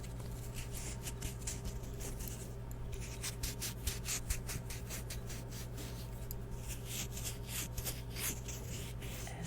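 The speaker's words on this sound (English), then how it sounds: "edamame pods, they're kind of scratchy, they're kind of barbed almost a little bit." Fresh, barbed edamame pods rubbed and handled up close, giving a dry, scratchy rustle with quick repeated scrapes over a constant low hum.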